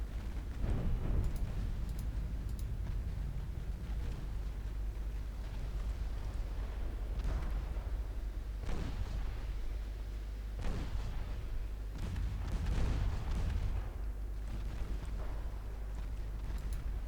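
Naval 6.1 inch guns fire in the video game Ultimate Admiral Dreadnoughts, a string of low, muffled booms spaced irregularly over a steady rumbling background, fairly faint and distant.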